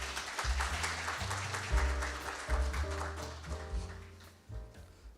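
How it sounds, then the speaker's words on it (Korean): An audience at a financial-crime prevention seminar claps to welcome a speaker to the podium, a sustained patter of applause with background music and tones running underneath. "여러분 박수로 맞이해주시면 감사하겠습니다"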